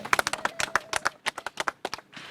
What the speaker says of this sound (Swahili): tuwapigie makofi kidogo wale